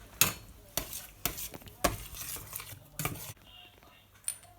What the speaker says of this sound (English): Now let's stir.